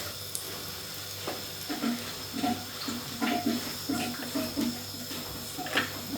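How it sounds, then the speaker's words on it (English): Water pours and trickles into a soup pot on the stove, a soft, uneven splashing with small bubbling surges, fairly quiet and close, with no talking. "fill it up some more with some more water"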